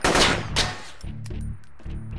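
Gunfire in a video game: two sharp, loud shots in quick succession, followed by a lower rumbling tail.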